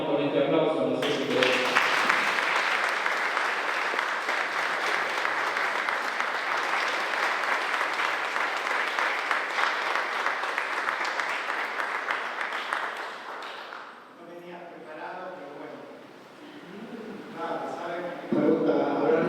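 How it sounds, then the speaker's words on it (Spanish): A church congregation applauds at Sunday Mass in a parish, a dense sustained wash of clapping that runs for about twelve seconds and then fades, with people talking before and after it. "Así que Ernesto, por ahora te acompañamos con este aplauso."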